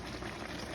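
Chicken adobo simmers in a pot, a dense, even bubbling wash that stays steady and close for a short stretch with no voices.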